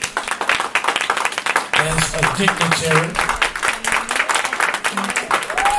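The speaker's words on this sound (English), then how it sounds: "let's give the Lord a hand clap" A church congregation claps hands during a worship service, a steady burst of applause filling the room alongside a speaking voice and some background music.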